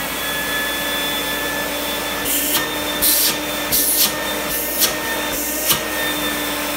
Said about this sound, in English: this position right here is to actually just run the vacuum.